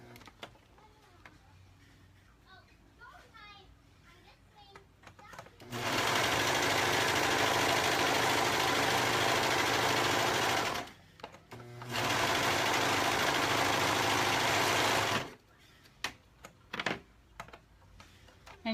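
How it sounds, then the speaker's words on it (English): A serger sewing machine runs in two loud, steady bursts of fast whirring stitching separated by a short pause, with quiet handling noises before and after. "I'll be using my serger a lot more than my sewing machine on this."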